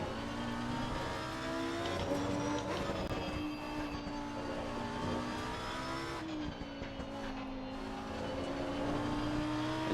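Lamborghini Huracán-style race car engine from Assetto Corsa Competizione at the Hungary circuit, revving loudly and steadily with rising pitch sweeps and quick shift breaks, continuous and close throughout.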